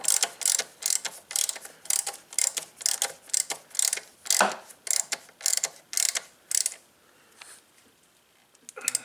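Bolts on a Cub Cadet LTX 1045 mower counterbalance being tightened with a ratchet, a close series of quick rhythmic clicking bursts with short pauses, trailing off into sparse clicks.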